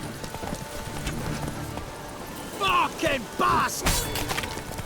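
Hooves of the horse Roach clip-clop steadily in The Witcher 3, joined by a couple of short whinny-like cries near the end, while a man curses over it.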